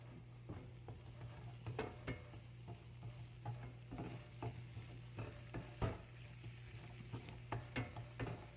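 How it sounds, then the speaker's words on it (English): Butter melts with flour in a pan for a homemade cheese sauce and is stirred as it cooks. There is a soft sizzle with repeated light scraping and clicking from the stirring, fairly quiet, over a steady low hum, and no voices. "We're just gonna let that butter melt in, stir it as we go until we go through"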